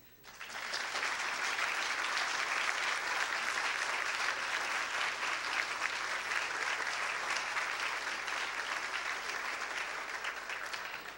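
Sustained applause from a seated audience at an official ceremony at a mathematics institute, swelling in quickly and holding as an even, dense wash of clapping for over ten seconds before easing slightly.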